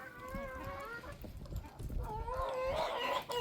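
Several poultry birds, one honking like a goose, cluck and honk in a lively, overlapping chorus while being fed, close by and noisy, with no talking.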